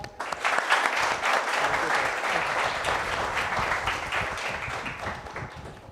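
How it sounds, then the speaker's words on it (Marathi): Loud, sustained audience applause at a Marathi competitive-exam guidance session welcoming guests, dense clapping filling the room from start to finish and easing slightly toward the end. "जोरदार टाळ्या वाजवा"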